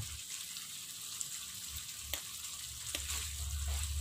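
Salted squid and jengkol frying in a pan while being stirred, a steady bright sizzle with a few soft scrapes and clicks, fairly quiet and alone.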